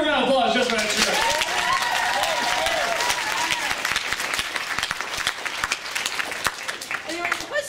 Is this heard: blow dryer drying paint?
no